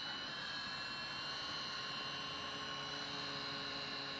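A UDI beginner RC helicopter hovers and flies with a continuous high-pitched rotor whine and motor hum, steady and close, with no talking.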